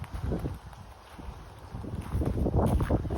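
Gusty wind buffets the microphone with low rumbling, rising and falling, rough and close throughout.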